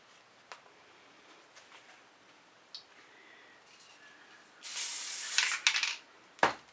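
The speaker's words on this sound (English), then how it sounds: "we're going to start by trying my Elmer's multi-purpose spray adhesive" A can of Elmer's multi-purpose spray adhesive sprays in one close, hissing burst lasting about a second, followed by a brief sharper hiss, with quiet handling noises around it.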